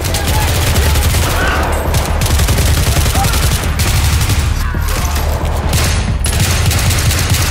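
Loud, dense gunfire from the Battlefield 3 Gunmaster mode runs without pause, with rapid overlapping shots and bursts in a continuous barrage.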